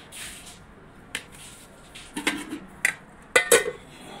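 A spoon scrapes and taps against a dish while curry is served, giving a scattered run of sharp clinks and soft wet scoops that grow busier toward the end, close and fairly quiet with no speech.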